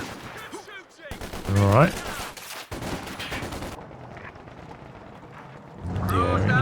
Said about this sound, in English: He's got 2 machine guns as well.